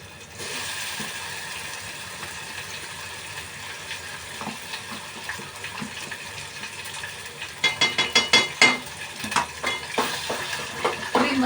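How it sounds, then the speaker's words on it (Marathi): Chilled ground masala paste sizzles and fries in a pan with onion and tomato, a steady crackling hiss joined by rhythmic scraping stirs of a spoon toward the end. "याला थोडंसं परतून घेते इथे पहिलं"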